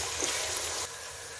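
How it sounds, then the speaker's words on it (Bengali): Duck pieces coated in ginger-garlic paste are stirred in a hot pan, giving a steady, close sizzling hiss that suddenly drops to a softer level partway through. "এবার আমি এগুলি ভালোভাবে নেড়ে নিব"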